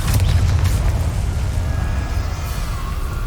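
Confringo explosive spell blast in Hogwarts Legacy, a deep booming impact up front that fades into a rumbling, crackling tail over a few seconds.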